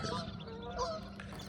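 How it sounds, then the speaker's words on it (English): Geese honking outdoors in the Arctic, several overlapping calls sounding moderately close, with a low steady background hum beneath them. "there goes the geese. There's a lot of geese out here."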